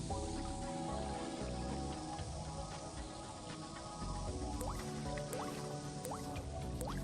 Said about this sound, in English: the cold water passing through the outer pipe of the condenser helps the vapors to condense into liquid ethanol, which is collected in the provided beaker